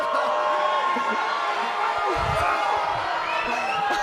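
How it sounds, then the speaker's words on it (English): Crowd at a drag show cheering and whooping steadily for about four seconds, a dense wash of voices with a few sharper shouts and low thumps partway through. "What's going on with this crowd right now? They're so pro Connor."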